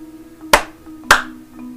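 Two sharp hand claps sound a little over half a second apart, close and crisp, each trailing into a short room echo, with quiet background between them and no talking.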